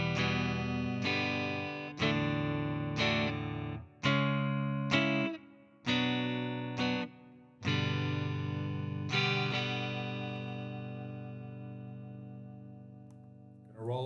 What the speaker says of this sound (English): This is just a quick overview on what it's going to sound like on clean, and I'm going to start off on the neck section.